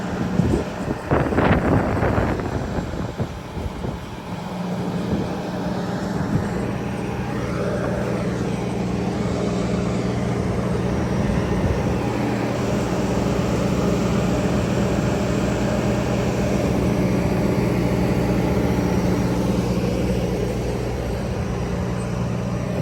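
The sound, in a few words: Kohler 80 kW standby generator running outdoors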